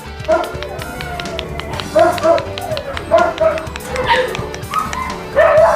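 Hound mix puppies at an animal shelter bark and yip in short, high, repeated bursts with whimpers between them, fairly close and loud, while a person talks faintly underneath.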